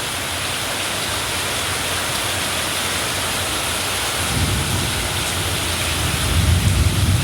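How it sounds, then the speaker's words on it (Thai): Heavy rain roars in a dense, constant wash of noise at the seaside in Bang Khun Thian, Thailand, with a deeper rumble swelling toward the end. "ฝนตกโคตรหนักเลยบาทเนี่ย"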